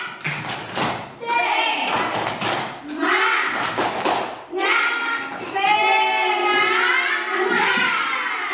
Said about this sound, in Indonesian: Sekarang kita melakukan tepuk semangat.